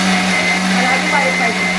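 A kitchen mixer grinder whirs steadily, grinding soaked batter for idli and dosa, a loud continuous motor drone with a constant pitch throughout the short stretch.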